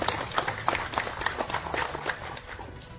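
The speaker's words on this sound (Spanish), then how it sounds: "Fuerte las palmas para él." Applause for a regional governor at a public event in Cañete, Peru, as a brisk, fairly dense run of hand claps at steady loudness with no break for three seconds.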